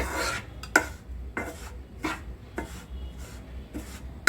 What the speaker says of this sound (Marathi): हा पूर्ण असा आपल्याला भाजून घ्यायचं आहे